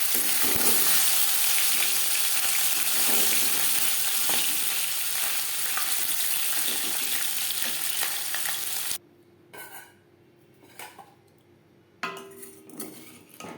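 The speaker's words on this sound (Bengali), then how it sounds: "মাছ একটা সাইজ ভাজা হয়ে গেলে অপর সাইজটা উল্টে দেবো" Katla fish pieces fry in oil in a pan for a traditional Bengali doi katla, with a loud, steady sizzle and occasional utensil clinks. The sizzle drops away near the end, leaving quieter intermittent clatter.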